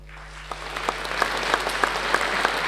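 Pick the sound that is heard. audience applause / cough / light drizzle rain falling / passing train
audience applause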